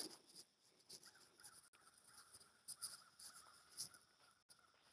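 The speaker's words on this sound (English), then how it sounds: "I just hear the crows crowing" Distant crows cawing now and then over a quiet outdoor background, with scattered bird calls and no talking.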